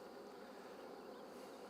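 Honey bees hum at an open hive during spring cell-builder work, a steady close buzzing swarm with no voices.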